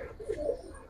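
A single soft, low coo from a fancy pigeon at a market stall, brief and faint against a quiet background.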